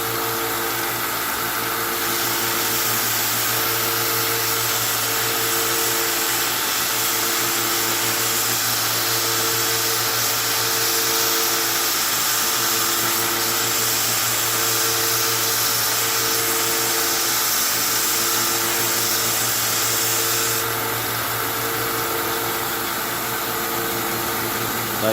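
A belt grinder runs steadily as a steel center punch is held against the belt to chamfer its edge, a continuous loud whirring hum with a gritty hiss that drops back slightly near the end.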